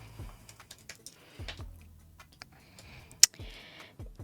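Typing on a computer keyboard, sparse soft key taps and a few quick runs, close and quiet, with one sharp louder click near the end.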